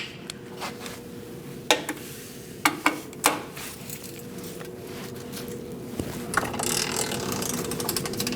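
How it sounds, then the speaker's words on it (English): A torque wrench ratchets while tightening nuts to 33 foot-pounds on the engine cooling fan assembly of a 2000-2006 Mini Cooper 1.6L, giving a few sharp, close clicking bursts over a steady low hum. "We'll go around and torque these nuts to"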